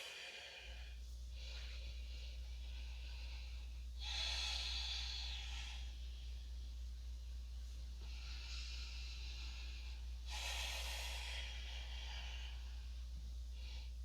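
Slow, deep breaths during a gentle yoga twist, with soft airy inhales and exhales spaced several seconds apart, faint and close over a low steady hum.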